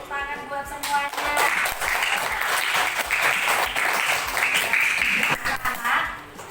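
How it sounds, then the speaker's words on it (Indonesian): A class of sixth-grade children in a school classroom claps together after a teacher's greeting, brisk and fairly loud applause lasting several seconds, with a voice heard at the start. "tepuk tangan buat semuanya."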